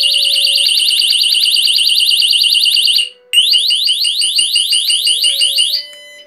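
A home burglar alarm set off with its panic button blares a loud, rapid warbling electronic tone up close, briefly cutting out for a moment before resuming and then dropping away.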